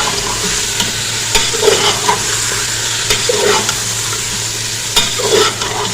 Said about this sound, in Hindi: इसको हम थोड़ा सा भूनेंगे ताकि इसका जो कलर है ये चेंज हो जाए।